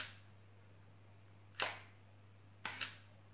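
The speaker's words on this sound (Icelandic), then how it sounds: "En það er á öllum myndavélum lokari sem opnar hérna í gegn." A film camera's shutter snaps open and shut in three sharp, close clicks: one alone, then a quick pair a second later, over a steady low electrical hum.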